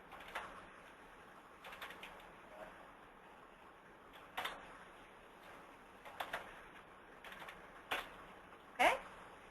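Typing on a computer keyboard during a database upgrade teleconference, heard as faint, scattered key clicks and taps in short irregular bursts over a quiet background.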